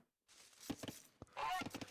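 Geese honk in a strategy video game match, a few scattered nasal calls near the middle followed by a denser, noisier cluster of honks, moderately loud with no talk.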